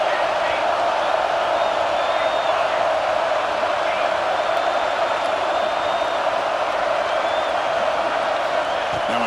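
Steady, dense roar of a stadium crowd in a Notre Dame football video game, holding at an even, loud level throughout with no clear breaks or individual cheers standing out.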